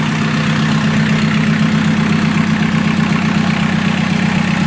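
A free swinging diesel motor idles loudly and steadily up close, a continuous low throbbing rumble with even pulsing and no pauses.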